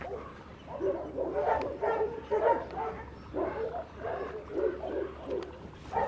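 Several dogs bark in a steady run of repeated, mid-pitched barks at moderate distance, with no talk over them.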